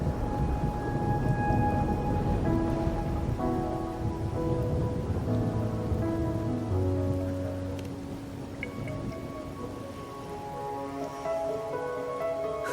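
Steady rain falls in the Wuthering Waves video game, a constant soft wash at moderate volume beneath tonal musical notes, easing slightly toward the end.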